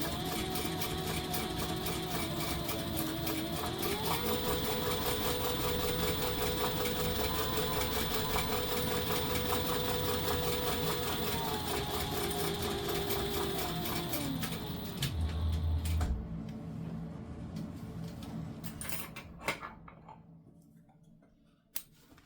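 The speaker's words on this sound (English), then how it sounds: "Sew at the seam allowance she gives you, back stitch, front and back." A sewing machine runs steadily while stitching a handbag seam with backstitching, its motor whirring continuously for about fifteen seconds with pitch shifts, then stopping, followed by faint handling clicks.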